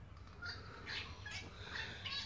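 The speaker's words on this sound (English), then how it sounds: "you can hear the wattlebird in the background" A wattlebird gives repeated harsh, squawking calls in a garden in early spring, heard at a moderate distance over a steady low background hum.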